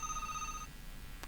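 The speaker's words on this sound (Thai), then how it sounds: "โทรศัพท์มาเนาะ" A telephone rings with a bright electronic tone that sounds for about half a second and then stops, followed by a quiet room and a faint click, no talking.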